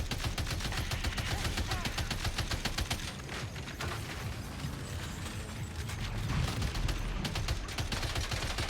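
In the Death Stranding 2 video game, dense rapid gunfire rattles continuously alongside mechanical clatter, staying loud and busy throughout.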